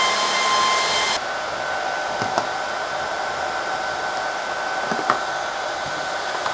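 Cooling fans in a Dell PowerEdge R710 server blow loudly just after power-on, a constant close rushing hum that drops a step in pitch early on, then holds steady with a few faint clicks.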